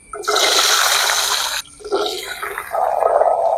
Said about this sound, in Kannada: ಅದಕ್ಕೆ ಅದು ಆ ತುಪ್ಪದ ಒಳಗೆ ಹಾಕಿದಾಗ ಫುಲ್ ಚಿಂಚ್ ಸೌಂಡ್ ಬಂತು